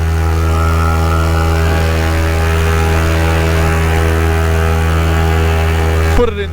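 A rebuilt paramotor engine drones at high revs in flight, a loud, steady buzzing with strong even harmonics, holding constant until a brief shift at the very end.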